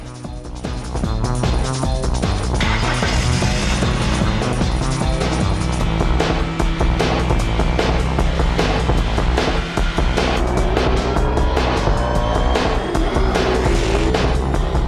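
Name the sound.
car engine recorded for Gran Turismo 2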